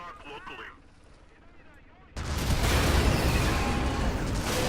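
Heavy tank gunfire erupts in a video game battle between four Shermans and two Japanese tanks, a sudden loud blast that swells into a sustained roar of explosions and rumble after a quieter stretch with faint talk.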